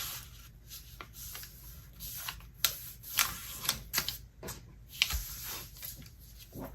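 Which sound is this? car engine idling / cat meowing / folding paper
folding paper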